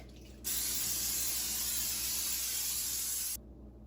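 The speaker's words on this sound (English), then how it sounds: "I'm gonna go ahead and spray the pan so it doesn't stick" Cooking spray hisses onto a pan in one steady burst lasting about three seconds, close and loud, then cuts off.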